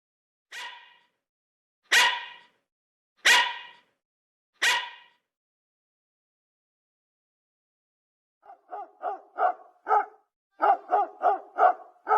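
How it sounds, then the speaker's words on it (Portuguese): Barks of a puppy and of an adult dog. Four deep, well-spaced barks come first, loud and close. After a pause, a run of quicker, higher yips follows in a rapid, uneven series. "Os dois sons do mesmo animal, cachorro."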